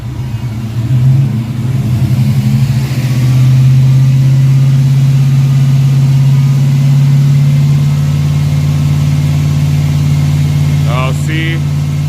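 A TBI-equipped car called the Black Pearl idles roughly, running a chip and cold spark plugs. It holds a loud, steady, close low drone with a slight blip early on and a brief higher chirp near the end.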